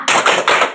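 A fourth-grade class does a spirit clap together, a quick burst of three sharp group claps in a tight rhythm within under a second, close and loud.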